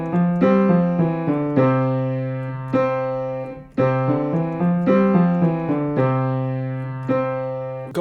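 Beginner-level piano exercise with both hands together, a steady low left-hand bass under a repeating right-hand figure, sustained notes ringing between regular attacks, played alone at a clear, even volume.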